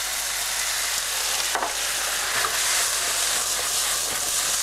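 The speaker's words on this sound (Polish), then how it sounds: "Fajita nam się smaży" Chicken fajita sizzling steadily in a hot pan, a continuous close frying hiss with faint crackles and a brief stirring scrape partway through, no voices.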